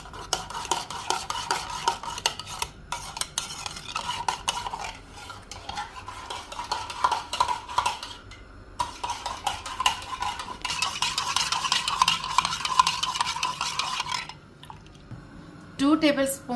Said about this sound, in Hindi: हमने हाफ कप दूध में ही 1 टेबलस्पून कस्टर्ड को मिक्स किया